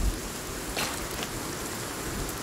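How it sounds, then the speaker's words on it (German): Steady rain in the survival game Sons Of The Forest hisses as a dense, even wash of noise, with a couple of faint sharper drop impacts and no talk. "Also der Regen."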